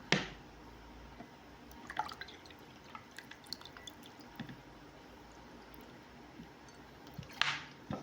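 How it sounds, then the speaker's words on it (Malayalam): An effervescent tablet fizzes in a glass after water is poured over it, giving a quiet, steady crackle of tiny popping bubbles, with a few sharper clicks at the start and near the end. "ഗ്ലാസ്സിൽ വെള്ളം ഒഴിക്കുമ്പോൾ ഇതിങ്ങനെ പൊട്ടിക്കൊണ്ടിരിക്കും, നമ്മളെ സോഡ പൊട്ടുന്ന പോലെ ഇങ്ങനെ പൊട്ടിക്കൊണ്ടിരിക്കും"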